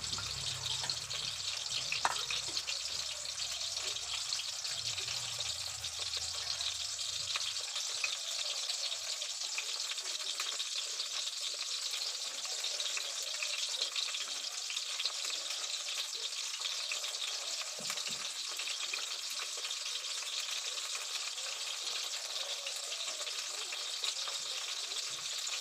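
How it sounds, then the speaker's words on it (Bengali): Chicken balls deep-frying in hot oil, a continuous dense bubbling sizzle heard close and unbroken, with a little low clatter early on. "এগুলো ভাজা হোক। এই দেখেন চিকেন বলগুলো আমার লাল করে ভাজা হয়ে গেছে।"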